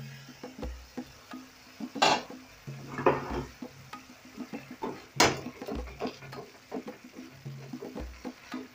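Soft sizzling and bubbling of tomatoes cooking down in a pan for fish curry, broken by occasional clinks and scrapes of a utensil stirring, close by and fairly quiet.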